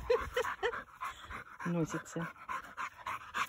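A dog pants in quick, soft breaths close by, mixed with a faint whimper, while people talk over it outdoors in a village.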